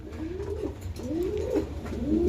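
Domestic pigeons, including racer, teddy, Lahori and highflyer giribaz breeds, coo in repeated soft rolling calls close by, about three phrases over a steady low background rumble.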